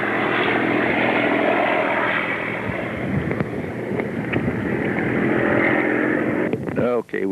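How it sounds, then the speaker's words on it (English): Vintage propeller aircraft pass overhead in formation behind a B-17 bomber at an air show, a loud sustained roar of piston engines with wind buffeting, while people talk nearby. "In formation, the B-17 leading them."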